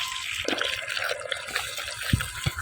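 Irrigation water running into a farm field by a mango tree, a soft continuous trickle and splash with a few brief louder gurgles, heard close with no talk.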